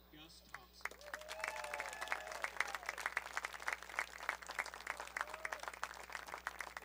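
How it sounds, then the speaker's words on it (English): A crowd applauds the men's lacrosse senior class at a Southwestern University game, with dense clapping under a public address voice and some whistles and cheers. "please give one more round of applause for the men's lacrosse senior class of 2024."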